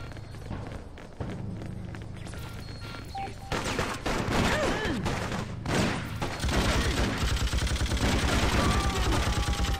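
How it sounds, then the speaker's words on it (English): A player's gun firing in the video game Freedom Fighters: rapid automatic bursts that build into sustained machine-gun fire, loud and close, mixed with running footsteps and other battle noise. "I just love this gun. You can just mow down enemies with it."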